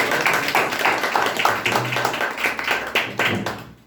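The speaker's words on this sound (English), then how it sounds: "clap for Rohit" An audience at a public speaking competition claps for a speaker, a brisk burst of hand claps with distinct individual slaps standing out, tapering off and fading at the end.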